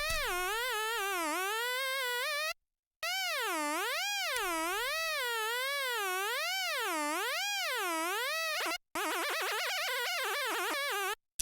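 Access Virus synthesizer tone whose pitch is modulated by a sample-and-hold LFO, wobbling in a rapid repeating cycle of bright, buzzy sweeps, loud and alone with two brief silent gaps.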